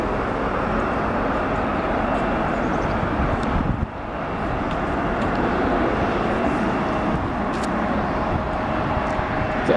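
An American Airlines Embraer ERJ 175 jet at Seattle-Tacoma International Airport, a broad continuous engine roar mixed with wind buffeting, loud and steady with a brief dip midway, no voices.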